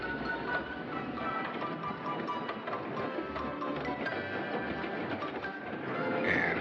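A Key System train rolls through a maze of track switches into the Bay Bridge terminal, with steady rumble, rhythmic wheel clacks and metallic squeals, heard from on board and fairly faint.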